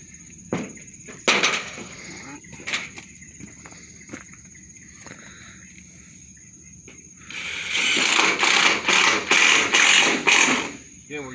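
Screws being driven into cheap roofing panels for an awning, heard as scattered sharp clicks and ratcheting, then a louder run of rapid mechanical bursts from a driver near the end.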